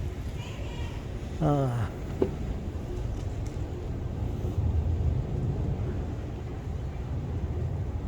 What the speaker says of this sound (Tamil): இது ஒரு விமானம்.